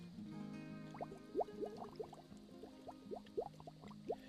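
Diluted worm casting fertilizer is poured into a jug, producing quiet gurgling and glugging with rising bubbly pitches in irregular bursts over a low steady hum.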